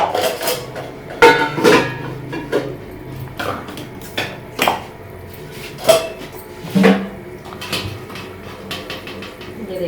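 Metal utensils clank and scrape against a pot as cooked rice is scooped out in a home kitchen, a series of close, irregular knocks and clinks.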